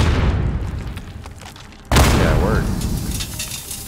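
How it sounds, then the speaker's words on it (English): Grenade blasts in the Call of Duty Modern Warfare video game: one loud, sudden boom hits midway and its rumble lingers among gunfire and battle noise, with players talking over it. "I'm just gonna start throwing grenades."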